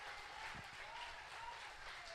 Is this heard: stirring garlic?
no